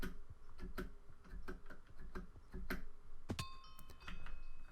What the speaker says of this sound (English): my keyboard is so loud, it's going to get picked out no matter where I put it on my desk